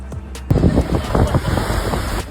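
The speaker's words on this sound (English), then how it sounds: "Warning, standing near crashing waves could make you the star of the show." Storm Karen's heavy surf crashing close by, a sudden loud surge of churning water after a quieter start, with wind buffeting the microphone.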